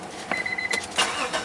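Brief cranking of an Acura V6 with a misfire, a close, uneven starter churn with a couple of pulsing surges, and no speech.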